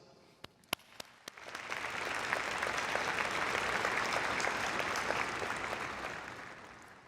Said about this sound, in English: can you please join with me in showing your appreciation by applauding all those who helped you earn the right to be called a graduate